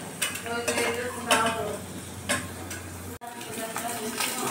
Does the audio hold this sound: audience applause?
no